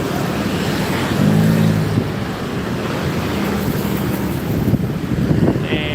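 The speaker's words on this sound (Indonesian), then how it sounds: "banyak truk-truk pengangkut barang-barang yang lagi melintas di jalur ramai ini" Heavy cargo trucks roll past on a busy road in Bandung, a steady loud rumble of engines and tyres with wind buffeting the microphone, continuous traffic noise throughout.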